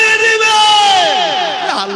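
A large crowd at a religious jalsa gathering roars the takbir chant Allahu Akbar in unison, a loud sustained chorus of many voices close by that swells and slowly fades.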